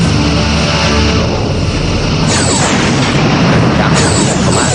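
Torpedoes fire and strike enemy shields in Star Trek Bridge Commander: a loud, continuous wash of booming impacts and rushing energy, with two sharp swells of noise partway through.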